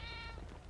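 A cat meows in a video game, one short drawn-out meow that starts clear and trails off, heard alone.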